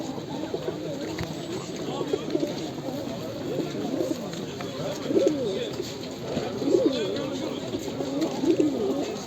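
Soft pigeon coos repeat among a busy murmur of voices and bird calls at the Edirnekapı bird market in Istanbul, steady and moderately close, with people talking in the background.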